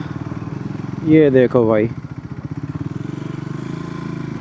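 A Triumph Scrambler 400X motorcycle engine runs close by with a steady, pulsing idle that continues under a man's brief speech.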